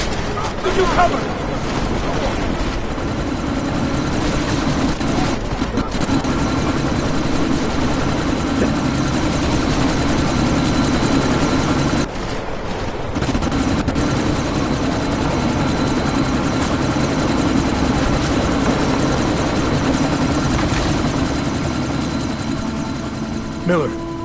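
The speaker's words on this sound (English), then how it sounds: "you need to disable that chopper" A helicopter in the video game Deus Ex: Mankind Divided drones steadily with a heavy rotor and engine roar for the whole stretch, briefly dipping once. Voices talk over it throughout.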